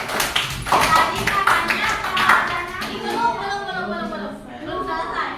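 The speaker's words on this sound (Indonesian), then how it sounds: "Oke, kasih tepuk tangan." A class of students claps together after a group presentation in a teaching session, a dense burst of hand claps that thins out as a voice speaks over the tail end.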